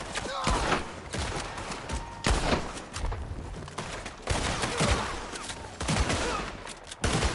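Gunfire volley in Red Dead Redemption 2, repeated sharp shots cracking in overlapping bursts, loud and close, with shouting voices mixed in.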